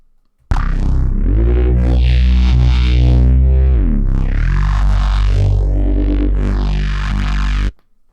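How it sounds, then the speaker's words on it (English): A thick, distorted synth bass patch called Destructor Drone holds steady for about seven seconds, its tone sweeping and morphing in waves before cutting off abruptly. "It's a bass sound, Destructor Drone, which sounds like this."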